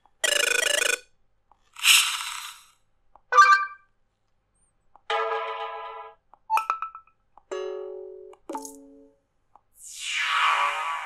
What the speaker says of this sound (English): you can change the default notification sounds